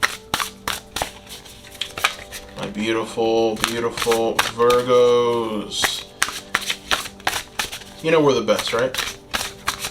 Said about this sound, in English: I am going to shuffle on camera.